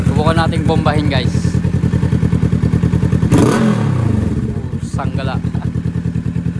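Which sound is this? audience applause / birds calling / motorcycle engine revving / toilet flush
motorcycle engine revving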